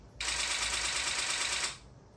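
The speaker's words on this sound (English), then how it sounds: "The shutter sound of a D3." A Nikon D3 DSLR shutter fires in a rapid continuous burst for about a second and a half, loud and close, then stops abruptly.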